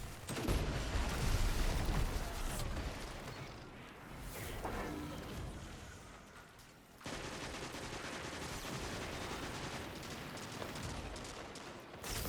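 Automatic rifle fire in the video game Destiny, Trials mode: dense, loud bursts of rapid shots that crackle continuously, ease off briefly near the middle, then resume at a sustained pace.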